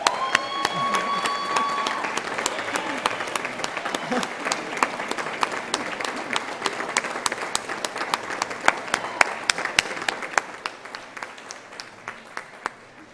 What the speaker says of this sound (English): please give them a standing ovation